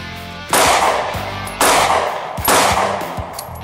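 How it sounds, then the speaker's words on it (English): Three sharp, loud gunshots come from a single-stack 9mm Ruger LC9S handgun at a shooting range. The shots are spaced about a second apart, and each leaves a short ringing decay. "We're going to start off with a single stack 9mm Ruger LC9S."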